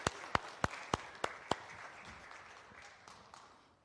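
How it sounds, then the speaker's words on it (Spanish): A few sharp claps ring out at a steady beat, then scattered faint clapping trails off in a roomy church during a Spanish-language service, applauding children. "un fuerte aplauso a nuestros niños del día de hoy"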